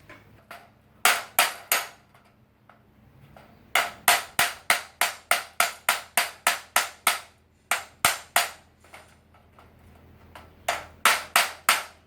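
A steel chisel is hammered against rivets on a food-drying cabinet while its wire mesh is being replaced, giving sharp, loud metallic blows in quick rhythmic bursts of about four to twelve strikes, with short pauses between runs.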